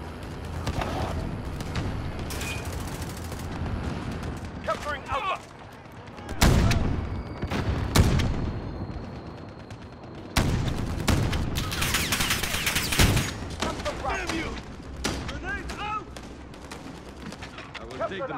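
Machine gun fire in a video game battle, bursts of rattling shots near and far mixed with explosions and other gunfire, while voices talk over the din.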